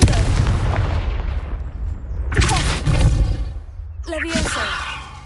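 Confringo fire spell blasts in the Hogwarts Legacy video game, loud booming bursts with crackling tails, one heavy blast near the start and further sharp explosive hits later.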